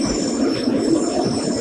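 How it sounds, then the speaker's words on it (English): A passenger train bound for Nagoya, Japan, heading toward the Japanese Alps, rolls past with a steady heavy rumble and a thin high wheel squeal held throughout, loud and close. "There's my train. I'm taking to Nagoya."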